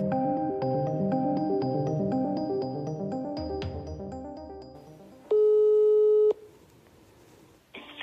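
Telephone line tones while dialling a call: a run of repeated beeps and a busy signal, then a loud steady ringback tone lasting about a second, followed by quiet and a brief click, with no talking.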